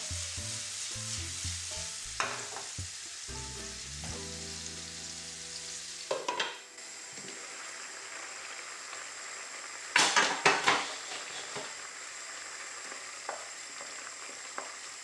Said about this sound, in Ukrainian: Кабачки перемішуємо.